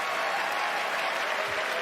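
A conference audience at E3 2019 applauds a Fallout 76 battle royale announcement, producing a steady, dense wash of clapping from a large crowd that holds even throughout.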